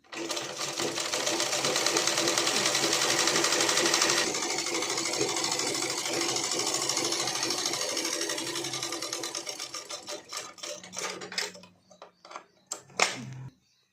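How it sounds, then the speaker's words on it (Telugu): A sewing machine runs in a fast, steady rattling stitch while sewing a blouse, then slows into separate ticking stitches and stops near the end. "ఒక కుట్ట అయిపోయింది, సెకండ్ కుట్ట వేస్తున్నా."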